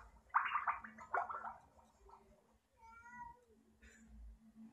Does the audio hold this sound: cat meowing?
yes